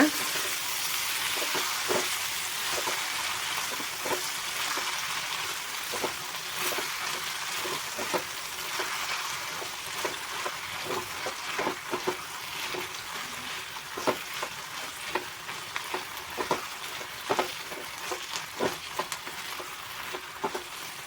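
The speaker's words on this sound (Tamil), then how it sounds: "மல்லித்தலை சேர்த்துட்டு நல்லா ஒரு நிமிஷத்துக்கு கலந்து விட்டுக்கோங்க." Coriander leaves being stirred into a dish frying in a pan, steady sizzling with repeated scraping stir strokes of a spatula against the pan, fairly quiet and without talk.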